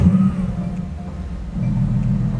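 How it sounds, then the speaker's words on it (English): A Mercedes-AMG GT S idles and blips its engine through the exhaust: a deep, steady low rumble that swells slightly toward the end, close and fairly loud, with no speech. "The exhaust in this car just sounds so amazing"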